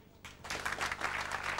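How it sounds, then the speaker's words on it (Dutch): Applause breaks out suddenly from an audience and builds into dense, steady clapping that continues to the end. "Uw applaus"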